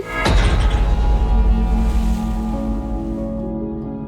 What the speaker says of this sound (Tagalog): dahil sa tunog ng malakas na hampas ng alon sa isang bato